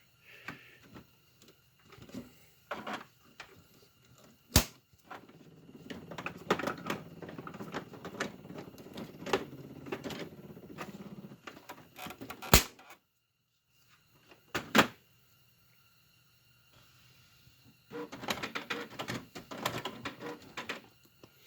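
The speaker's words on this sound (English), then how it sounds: "So now I'm going to put it back into the printer." Plastic clicks and sliding scrapes as a printhead is pushed back into a Canon printer, with sharp snaps and quiet pauses between bursts of handling.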